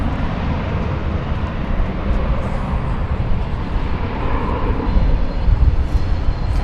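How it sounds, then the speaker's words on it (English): A jet airliner roars on takeoff at DFW Airport at night, a broad, distant engine rumble that builds gradually and grows louder toward the end. "the takeoffs are hot and heavy here"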